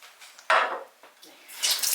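Glass canning jars being scrubbed during washing, with a sharp burst of rubbing and clinking near the start, then lighter scraping and a brighter hissy scrub toward the end, close and moderately loud with no talk.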